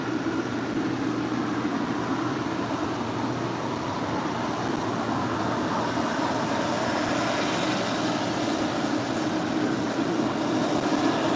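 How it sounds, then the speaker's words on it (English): A Boeing 777 airliner arriving at Los Angeles airport from Cincinnati, heard as a steady, moderately loud engine rumble and hiss that continues evenly without speech. "This was Coletta Air Flight 232 coming in from Cincinnati on this 777."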